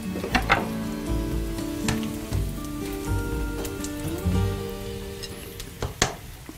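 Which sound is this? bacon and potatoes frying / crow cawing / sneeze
bacon and potatoes frying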